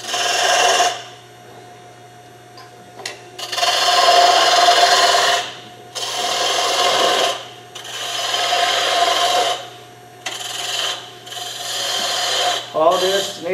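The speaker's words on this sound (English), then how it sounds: "Now I need to remove this material, make my funnel. Got my bowl gouge." A bowl gouge cuts into a wooden salt shaker spinning on a lathe, producing loud bursts of rasping, scraping shavings that come in repeated passes separated by short pauses, with a steady motor hum underneath.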